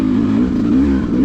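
A Beta two-stroke motorcycle engine runs loud and close in a brief burst, its buzzing drone wavering slightly in pitch as the throttle shifts, with no voices.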